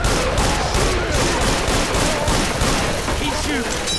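Rapid, continuous gunfire from the zombie shooter game Left 4 Dead 2, loud and dense throughout with chaotic game noise and voices talking underneath.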